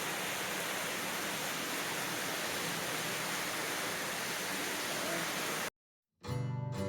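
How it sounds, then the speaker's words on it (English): A big waterfall pours into a secluded pool in the Blue Mountains, a steady loud broadband rush that runs almost six seconds before cutting out abruptly, followed by a brief unrelated sound. "we passed through to a beautiful big waterfall in a secluded pool"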